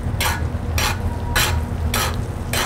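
Flounder fillet frying in plenty of butter in a pan, a continuous close sizzle punctuated by regular bright spattering bursts, roughly every half second, as hot butter is spooned over.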